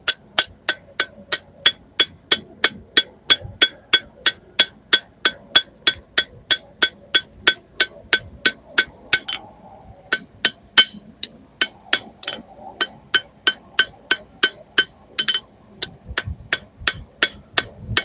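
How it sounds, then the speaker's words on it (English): Hammer blows sharpening a metal tip, a steady run of sharp, ringing metallic strikes about twice a second, close and loud, with a brief pause midway before the rhythmic tapping resumes over a low hum. "now I'm sharpening the tip, and you have to be real careful not to squish it too flat or hit it too hard"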